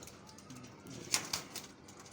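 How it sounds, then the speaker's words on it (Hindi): Teddy pigeons at a home loft, a few soft brief sounds like coos and wing flutters, faint and close. "ये मेरे घर के टैडी कबूतर हैं"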